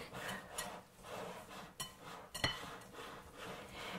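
A whisk scrapes and clinks against a bowl while stirring a mix for cookies or chai tea, in quick, uneven rhythmic strokes with a few sharper metallic knocks, fairly faint and close.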